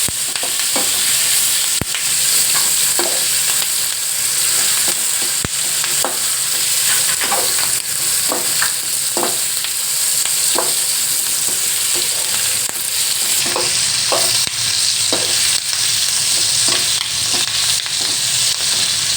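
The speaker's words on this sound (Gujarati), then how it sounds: "આજે આપણે ચણાનો લોટ નાખીને મરચાં તળશું" Green chillies coated in gram flour with an asafoetida tempering fry in hot oil, making a steady, close sizzle throughout, with occasional clicks and scrapes of stirring.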